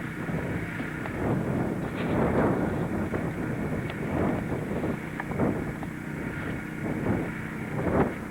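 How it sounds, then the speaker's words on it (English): Steady wind on a beach at Twin Rocks, Australia, buffets the microphone with low rumbling gusts rising and falling throughout, no voices. "Still a bit windy."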